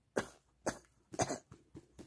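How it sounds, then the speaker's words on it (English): A person coughs during a hospital ER doctor's physical exam, giving several short, sharp coughs spaced about half a second apart, close and clear in a quiet room. "Cough."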